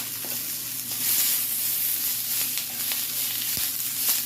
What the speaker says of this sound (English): in the same skillet, we're going to add a little bit of olive oil. And remember those veggies we cut up? We're going to go ahead and throw those back in there